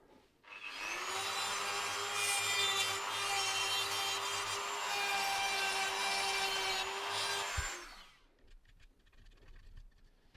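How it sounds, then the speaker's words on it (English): A small rotary tool grinds corrosion off a positive battery contact in a Sanyo MGP600D cassette player, a steady high whine lasting about seven seconds before winding down, close and alone. "I'm just going to try and grind this last bit of corrosion off the battery contact for the positive"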